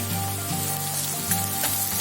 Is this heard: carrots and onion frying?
yes